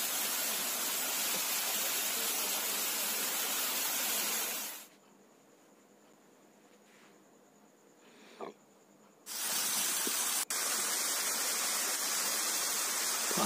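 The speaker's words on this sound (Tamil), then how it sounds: "பாறையிலேருந்து தண்ணி விழுறது, அந்த சவுண்டு" Water falling from rocks at a waterfall on the Nambi Kovil hill trek, a steady loud rushing roar that drops to near silence midway before the full cascade returns.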